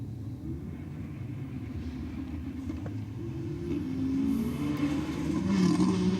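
An Audi and a Ford Falcon drag race at Sydney Dragway, a deep rumbling engine roar that swells and grows louder as the cars accelerate down the strip, with a revving pitch rising near the end.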